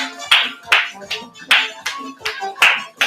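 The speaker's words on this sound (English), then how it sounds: "Remember, you can start doing with the clapping." Hand claps set a dance rhythm, sharp and close, about seven over three seconds in an uneven pattern of pairs and single beats, with no one talking.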